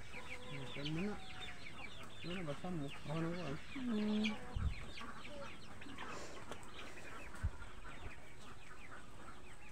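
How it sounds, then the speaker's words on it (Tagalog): Several chickens cluck and squawk nearby in quick, uneven bursts, with a couple of thumps near the end. "Kaya may manok dire."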